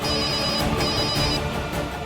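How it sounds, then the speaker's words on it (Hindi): A telephone rings steadily and loudly throughout, a continuous electronic ringtone with no talk over it, heard indoors during a domestic scene in a Hindi TV drama. "किसका फोन है?"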